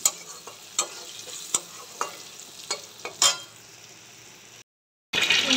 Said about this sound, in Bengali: এগুলো ভেজে নিই